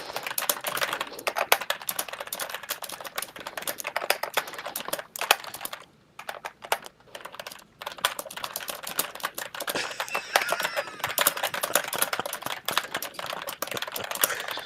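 Rapid, dense clatter of fast typing on a worn 2015 computer keyboard, continuous keystrokes with a brief pause midway, close and steady.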